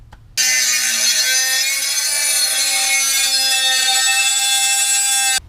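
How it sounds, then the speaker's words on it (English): A power tool cuts through the metal rotor heat shield on a Jeep Wrangler, a loud, steady high-pitched whine with a grinding edge that starts abruptly, holds for about five seconds, and stops sharply. "we had to cut the little heat shield out there of the rotor a little bit"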